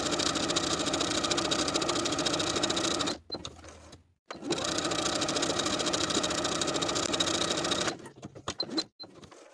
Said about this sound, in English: continuing to stitch all along the top until you're back where you started,